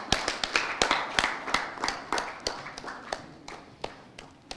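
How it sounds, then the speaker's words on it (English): Sparse, irregular hand claps from a small audience at a health ministry forum, sharp individual claps fairly close, continuing unevenly while a guest walks up. "You clap until she comes."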